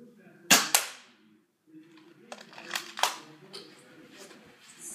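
An N-Strike Nerf toy blaster fires with sharp, close snapping pops, a loud double shot first and then a quicker burst of lighter clacks, with a voice heard faintly beneath.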